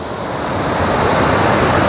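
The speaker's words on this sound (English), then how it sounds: "it is just a beast of a waterfall" Heavy, steady roar of the huge Rariki Lynn waterfall in Scotland, a dense continuous rush of falling water close by with no voices.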